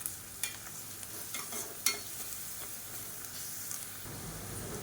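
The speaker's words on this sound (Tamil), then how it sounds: "அந்த பூண்டு சேர்த்துக்கலாம் சேர்த்துட்டு இதையும் நல்லா வதக்கிக்கலாம்" Ground garlic stirred into browned onions in a pan, a faint steady sizzle with a few light spoon scrapes and taps, quiet and close, no voices.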